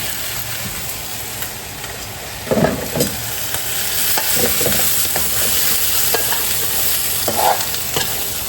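Thinly sliced beef stir-frying in a hot pan for beef noodles with vegetables, a steady close sizzle with scraping and stirring clatter throughout.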